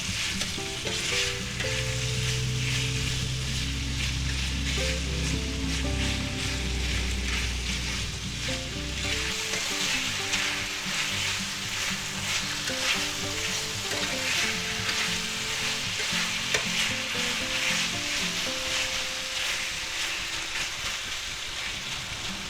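Pork pieces fry for a stir fry in a loud, dense, constant sizzle like heavy rain, with a low rumble in the first half that drops away, close and uninterrupted with no voices.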